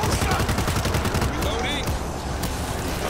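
Rapid automatic gunfire from the video game World War Z rattles in a dense, continuous burst, loud and close, with faint game effects layered underneath.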